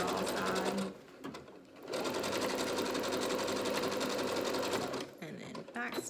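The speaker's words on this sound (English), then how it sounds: "Okay, we're gonna do the same kind of serging technique on this other raw side." A sewing machine serges the raw side of a homemade fabric mask in fast, rapid-stitch bursts, pausing briefly near the start and again near the end, with a voice talking quietly in the background.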